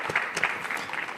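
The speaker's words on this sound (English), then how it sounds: "Round of applause, please." Audience applause at a construction digitalisation summit, a short burst of clapping that stays fairly steady and moderate in level for just over a second, with faint voices underneath.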